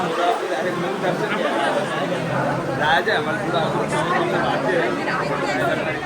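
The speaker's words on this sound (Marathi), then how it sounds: "गर्दी आहे" Dense crowd chatter from devotees at the Jyotiba and Mahalakshmi temple darshan, a constant babble of many overlapping voices close by and steady in level throughout.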